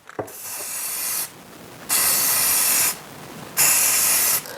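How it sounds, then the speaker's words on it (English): Three long bursts of clear coat aerosol spray hiss over a taped Ducati Diavel LCD display, each lasting about a second, separated by short pauses of quieter background noise. "we're going to spray some clear coat"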